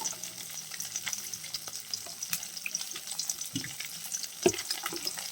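Hilsa fish frying in hot oil crackles and spatters steadily, with a scatter of sharp pops and one louder snap toward the end.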